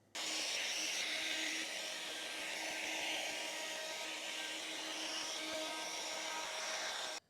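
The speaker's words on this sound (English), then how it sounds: "So I've got a round over router in. So let's go around this guitar and smooth off this." A router fitted with a round over bit trims the edge of a guitar body, making a loud, steady high whine that starts abruptly, holds for about seven seconds and then cuts off.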